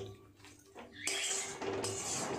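Taro leaves frying with shrimp in a pan, stirred with a utensil that clinks and scrapes against the metal while oil sizzles steadily, quiet and close.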